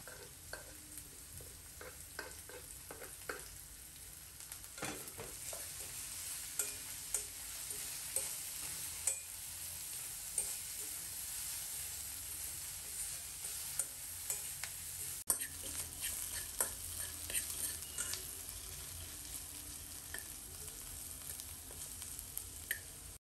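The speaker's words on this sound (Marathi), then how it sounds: "तर या मी आता सगळ्या टाकून तेलामध्ये परतून घेते" Vegetables stir-fried in oil in a pan, a steady close sizzle with repeated light scrapes and taps of a spoon throughout.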